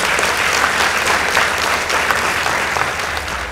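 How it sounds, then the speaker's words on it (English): Sustained applause from an audience at a high school debate competition between Nakuru Boys High School and Moi Forces Academy Lanet, steady and dense clapping filling the room for several seconds. "Let's appreciate them with a round of applause."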